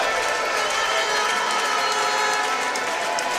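A crowd reacts at the 2022 Futnet World Championships triples final: a dense, loud, continuous roar of many voices and noise fills the arena without a break, with no clear single voice standing out.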